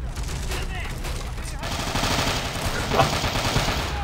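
Heavy gunfire and explosions from a Men of War: Assault Squad battle fill the clip as a dense, continuous fusillade, swelling louder with a sharp grenade-like burst near the end, while a voice talks over the combat.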